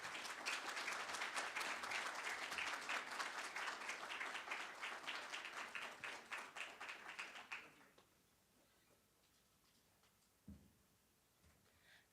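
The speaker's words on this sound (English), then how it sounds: "Please give a round of applause to welcome Dr." Audience applause welcoming a speaker to the stage at a World Water Day talk on glaciers; steady, full clapping for several seconds, then it stops abruptly, leaving near silence with a couple of faint bumps.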